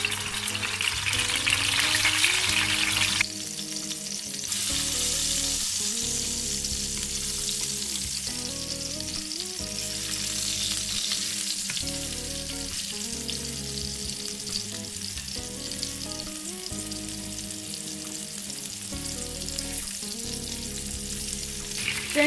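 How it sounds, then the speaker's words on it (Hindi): Nargisi koftas fry a few at a time in oil in a pan, a loud, continuous bubbling sizzle over a repeating low background tune, with the sizzle briefly surging louder at the start. "टाइम आ गया है नरगिसी कोफ्तों की फ्राइंग का"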